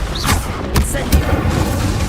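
In the Hogwarts Legacy video game, an Incendio fire spell goes off with deep booming bursts, a whoosh and a couple of sharp magical flares, loud and close over a rumbling low backdrop.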